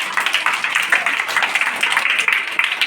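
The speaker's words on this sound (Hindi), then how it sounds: "नारी शक्ति के लिए पुनः ताली बजाएं।" Children at a school International Women's Day program in Bhusauli applaud together, a dense, continuous patter of many hands clapping at close range for a few seconds.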